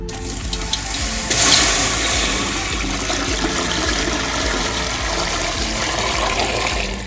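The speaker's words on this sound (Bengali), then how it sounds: "জল দিয়ে দিচ্ছি।" Water pouring steadily into a pot of red lentils (masoor dal) being washed in a home kitchen, a continuous close gushing splash that starts abruptly and runs unbroken, with no talking.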